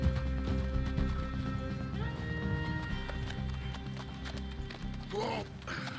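A horse gallops in the video game Red Dead Redemption 2, rapid rhythmic hoofbeats running continuously over an orchestral music bed, with a brief whinny near the end and a voice talking over it.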